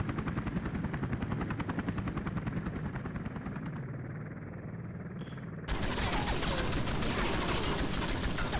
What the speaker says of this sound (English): Shoot the helicopter out of the sky!